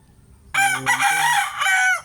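A roundhead gamecock rooster crows once, loud and close, a full cock-a-doodle-doo lasting about a second and a half after a quiet start, with no talking.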